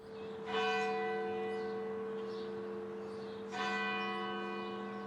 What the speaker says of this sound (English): ordered the church bell at St. John's Lutheran Church to be rung to alert Harpers Ferry that John Brown's raid was underway.